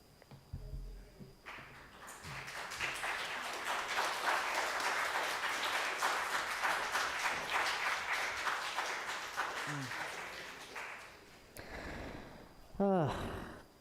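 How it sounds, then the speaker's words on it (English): Audience applause at a talk, a steady dense wash of clapping that swells, holds for about nine seconds, then fades, with brief voices and a few sounds before and after. "can we get one more little round of applause and deep love?"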